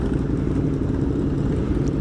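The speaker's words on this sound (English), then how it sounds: "Definitely gonna have to wait our turn because holy crap, there's a lot of bikes." A large group of motorcycles on an end-of-season ride, a dense, continuous low engine rumble close by, steady in level with no talking.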